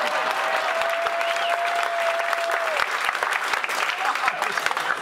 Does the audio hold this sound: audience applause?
yes